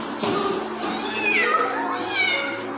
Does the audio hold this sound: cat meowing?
yes